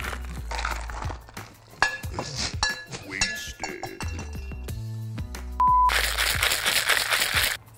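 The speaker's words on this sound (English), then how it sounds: "So I'm gonna shake this up" A rum punch cocktail being shaken with ice: irregular clinks and rattles of ice against the shaker, building to a dense, vigorous shaking burst near the end, close and loud.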